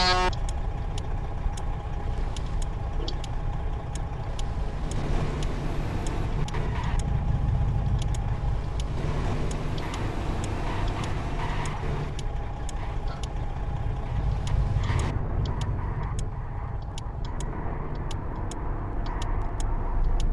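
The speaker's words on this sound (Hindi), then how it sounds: "गाड़ी के ऊपर वज़न बहुत ज़्यादा है जिसकी वजह से तंग कर रही है।" A heavily overloaded American truck fitted with a crane labors up a dangerous mountain road, its engine droning steadily for the whole stretch while sharp ticks and clicks recur throughout.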